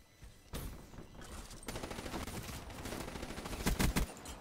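Bursts of rapid automatic gunfire from a Black Ops 3 multiplayer match, starting abruptly and running in dense, uneven volleys with louder shots clustered near the end; nobody talks.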